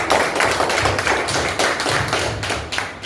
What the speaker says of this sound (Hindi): तो इनके लिए ताली बजाओ